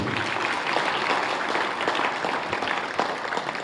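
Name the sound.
audience applause for a theatre actress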